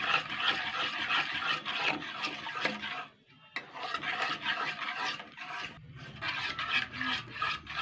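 Rice flour sweet mixture being stirred in a pan over a very low flame, a steady rasping, scraping rub of the spoon against the pan that repeats continuously with one brief pause.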